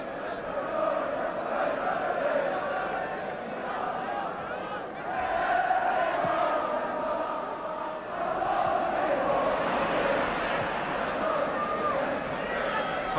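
A packed 1970s football crowd roars and chants at Roker Park during Sunderland v Spurs, a dense, continuous wall of massed voices that swells and dips throughout.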